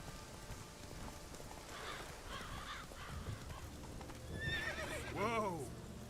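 Roach, the horse in The Witcher 3, gives a loud whinny near the end, heard over steady rain and soft hoof clip-clop.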